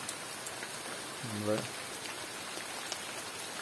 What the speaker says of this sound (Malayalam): പിന്നെ മഴ പെയ്യാൻ തുടങ്ങിയിട്ടുണ്ടോ.